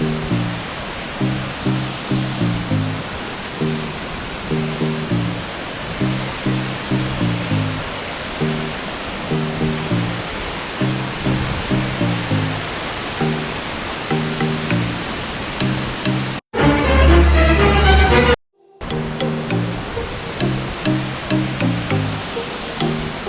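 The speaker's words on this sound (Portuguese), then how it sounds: "A cachoeira vem lá de baixo" Steady, loud rushing of the Cachoeira Lago Azul waterfall in Jaguariaíva, Paraná, heard from the top of the falls above a canyon, filling the whole stretch with constant broadband roar and a brief louder burst near the end.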